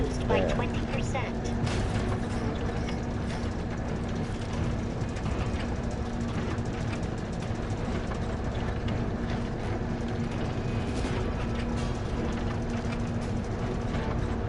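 Steady mechanical droning and whirring as a vacuum clears Mako gas in the Final Fantasy 7 Rebirth game, holding an even level throughout beneath speech.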